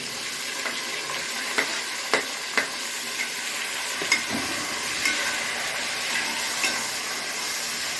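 Tomatoes and five or six green chilies sauté in a hot pan with a steady, close sizzle, broken by a few sharp clicks of stirring.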